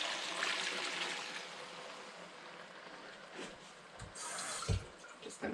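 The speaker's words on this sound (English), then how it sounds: "To this, we're going to add our broth." Broth pours into a cooking pot for a butternut squash pasta sauce, a steady liquid splash and trickle that fades midway, then a few brief clunks and a renewed splash near the end, close by with no talk.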